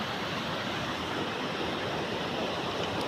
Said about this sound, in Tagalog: So, that's the famous Carolotan Falls.